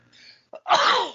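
One close, loud sneeze with a brief gasp before the explosive burst, following a faint murmur.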